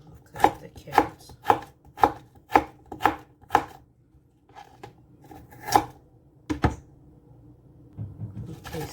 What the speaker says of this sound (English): Cut up the carrots.